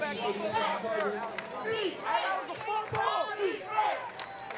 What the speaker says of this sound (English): Los Alamitos crowd starting to get behind this defense.